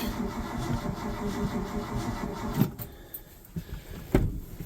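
A 1984 Ford F250 engine cranks on a weak battery, a labored churning that runs for about two and a half seconds, then breaks off into scattered clunks and a final thump close by.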